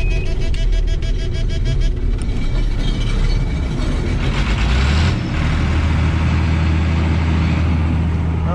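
An old vehicle's engine idles steadily after its first start since 2017, a loud continuous low rumble with mechanical rattle that settles into a smoother, even drone partway through.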